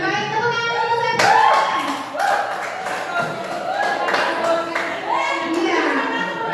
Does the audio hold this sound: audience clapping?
yes